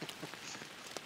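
Steady rain pattering on a surface in the Fishing Planet fishing game, a dense, even hiss of drops with a few brighter splashes, moderately quiet and with no voices.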